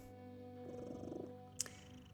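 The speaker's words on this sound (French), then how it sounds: "Vous entendez comme il ronronne?" A cat purrs softly in The Midnight Walk, a low steady rumble with a brief sharper click near the end, alone with no talk.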